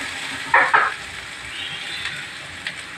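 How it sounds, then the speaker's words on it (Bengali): Spices with a little turmeric fry for mutton biryani, with a brief burst of hissing and a couple of stirring scrapes near the start, then a steady low sizzle, close, with no talking. "ভালো করে ভেজে নেব।"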